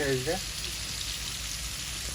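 Onions and garlic fry in a pan with a steady, close hiss and sizzle, while a voice is heard briefly at the very start.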